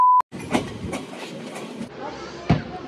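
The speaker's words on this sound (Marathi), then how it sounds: "ट्रेन आता एका स्टेशनला थांबली आहे." An overnight passenger train rolls along on a journey toward Goa, a steady close rumble with periodic wheel clacks and thumps after a brief beep at the start.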